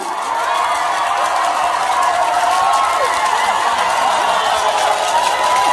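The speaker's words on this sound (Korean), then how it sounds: "자, 함성!" Large outdoor crowd cheering and shouting at a concert during the Hadong Wild Tea Festival, a steady loud roar of voices with scattered whistles and applause held throughout.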